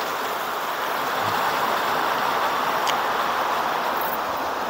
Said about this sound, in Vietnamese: Mưa lớn luôn.